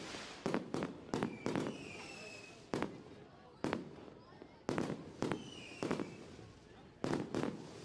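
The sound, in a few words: fireworks at dirt race track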